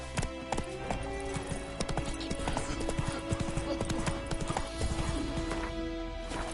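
Horse hooves clip-clop steadily as a rider trots through the world of Witcher 3, the rhythmic footfalls close and continuous over a low ambient bed, with an occasional faint whinny.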